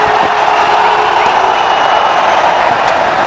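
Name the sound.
cricket crowd cheering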